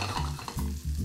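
Prawns sizzle in a frying pan as they are flipped, a soft, close frying hiss broken by scraping stirring strokes in a quick, uneven rhythm.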